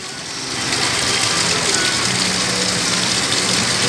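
Heavy rain falls on a busy market street in Montalban with traffic, a loud, even roar of water that swells up at the start and holds steady.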